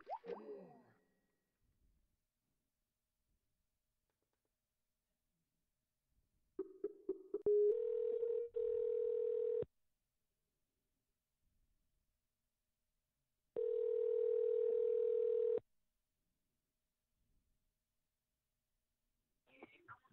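Telephone line on a call-in broadcast, with a steady electronic tone heard twice in sustained stretches of about two seconds, preceded by clicks and dialing blips amid near silence.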